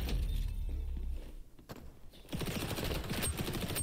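Rapid bursts of gunfire and missile shots crackle in an XDefiant online match, a dense rattling volley at first, a brief lull, then another sustained barrage of shots, moderately loud with no talking.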